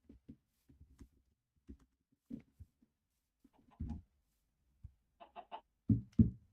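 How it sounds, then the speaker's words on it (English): Chicken clucking in modded Minecraft, a few short separate clucks and squawks spread across the stretch, with a louder burst of calls near the end, no talk over them. "We can officially name the chicken."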